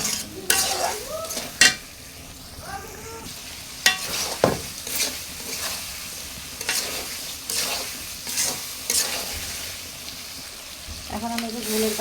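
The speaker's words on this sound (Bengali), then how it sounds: "ভালো করে কষে নেব।" Chicken curry stir-fried in a pan with turmeric and spices, the spatula scraping and stirring in irregular strokes over a soft sizzle, with occasional sharper clanks against the metal, close and moderately loud.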